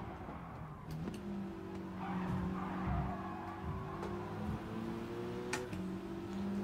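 A race car in GT Sport with failing brakes skids and squeals its tires on the Red Bull Ring circuit during a manufacturers' series race, over a steady engine drone with a few sharp ticks.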